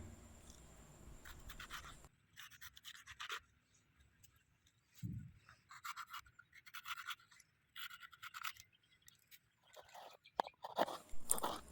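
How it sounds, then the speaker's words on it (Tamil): A knife slices red, green and yellow capsicum for restaurant-style dragon chicken, giving soft, crisp crunching cuts in short bursts, quiet and close. "கேப்சிகம் கட் பண்ணும்போது இதே போல் ஸ்லைஸாக கட் பண்ணிக்கோங்க"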